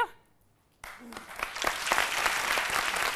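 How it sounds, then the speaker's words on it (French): Studio audience on a Côte d'Ivoire midday TV show breaks into applause after a quiet pause, a faint voice fading out first, then dense clapping swelling and holding fairly loud. "On commence à applaudir?"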